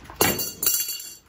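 A crescent wrench slips off the fuel filter fitting on a 1980s small-block Chevy, giving two sharp metallic clanks about half a second apart, close and fairly loud, then quiet.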